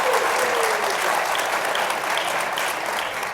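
Audience applause at a political talk event, a dense steady wash of clapping from many hands that fills the whole stretch at even loudness, with no voices over it.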